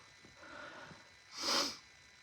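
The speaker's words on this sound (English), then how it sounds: "I'm sniffling and carrying on" A person gives one strong nasal sniff or snort midway, loud and close, after a stretch of quieter breathing.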